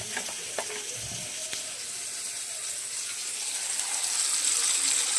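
Spice paste and vegetables fry in a pan while a Bengali fish curry with live rohu is being cooked, a steady soft sizzle with a few stirring clatters early on, growing slightly louder, no talk.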